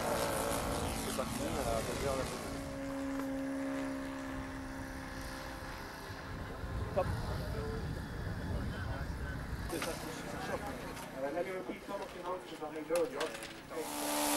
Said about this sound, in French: Il fait un décollage, il va voir ce qui se passe là-haut